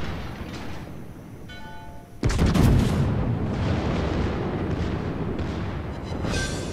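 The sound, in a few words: battleship main guns firing in video game World of Warships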